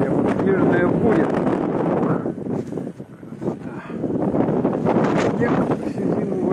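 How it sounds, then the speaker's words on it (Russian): Strong wind roars continuously against the microphone during a snowstorm in a spring street in Yakutsk, a steady buffeting gust that dips briefly in the middle before rising again; faint voices may sit beneath the noise. "Ох, смотрите, какой ураган."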